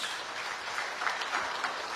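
Church congregation applauding at a sermon on repentance, a steady wash of clapping at moderate level that holds evenly through the short stretch with no voices over it.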